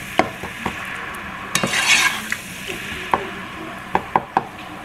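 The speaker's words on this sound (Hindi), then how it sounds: "अब इन टमाटरों को जो है मसाले से अच्छे से भूनना है" Tomatoes cooking down with masala in a pan: soft sizzling underneath with a brief louder hiss, punctuated by sharp clicks and scrapes of a spoon stirring against the pan at irregular intervals.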